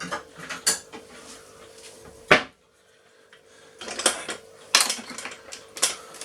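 A whisk is pulled out from among metal kitchen utensils, giving nearby rattles, clanks and scraping. The noise comes in short bursts and then stops for about two seconds.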